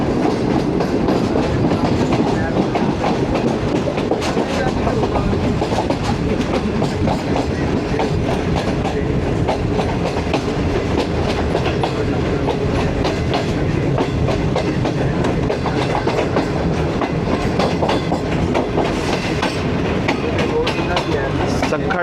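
A train passes through Khanpur junction on the Rohri to Lahore line, heard from inside the carriage as a loud continuous rumble with rhythmic wheel clatter over the rails throughout.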